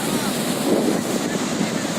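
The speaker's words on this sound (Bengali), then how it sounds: "তাই দেখ এই ঢেউটা কতটুকু অগ্রসর হতে পারে" Waves wash up onto a shore in a steady, broad rush of surf, mixed with wind buffeting the microphone. The sound stays fairly even and close throughout.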